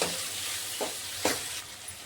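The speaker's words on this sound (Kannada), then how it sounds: "ಇವಾಗ ಈ ಆಲೂಗಡ್ಡೆ ಹಾಕ್ಕೊಂಡು ಬಳಕ ಒಂದು ಸ್ವಲ್ಪ ಇದನ್ನು ಫ್ರೈ ಮಾಡ್ಕೊಳಮತ್ರಿ" Potato pieces fry in a hot pan for a soybean and fresh coconut palya, giving a steady broadband sizzle with a few brief stirring scrapes, close and moderately loud, with no talking.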